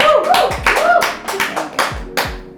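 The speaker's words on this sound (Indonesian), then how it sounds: "Boleh tepuk tangan ya?" A handful of sharp hand claps ring out over a quiet room, mixed with brief tapping and a faint voice, loud and close.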